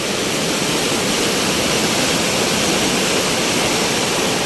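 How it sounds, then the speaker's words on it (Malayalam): A loud, unbroken roar of torrential floodwater rushing over a stream bridge at Kannambra, Kerala, where the road washed away, dense and steady throughout with no voices. "അത്ര ഭീകരമാണ് വെള്ളത്തിൻ്റെ പുത്തൊഴുക്ക്"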